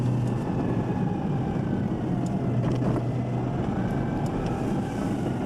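Citroen 2CV driving through deep snow, a continuous droning engine with a faint gear whir, steady and close, no voices.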